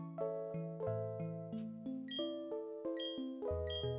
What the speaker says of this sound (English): listen to the sweet dulcet tones of the game's background music